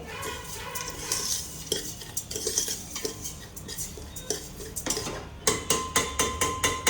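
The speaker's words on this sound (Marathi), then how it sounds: "मी आता हे गव्हाचा आपला रवा जो असतो तो व्यवस्थित तुपामध्ये भाजून घेते" Wheat semolina roasting in ghee, a continuous hiss under busy stirring and scraping of a metal spoon in the pan, ending with a steady series of sharp rhythmic clanks.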